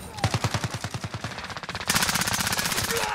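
An AMAX rifle in Modern Warfare firing blood tracers: a rapid, steady automatic burst of close, loud shots, then a second, denser and louder stream of fire from about halfway through.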